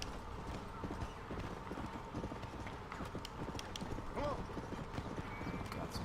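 Wild horses in the Red Dead Redemption game, hooves clip-clopping in a busy, continuous patter with a neigh rising partway through, set under someone talking and ambient game sound.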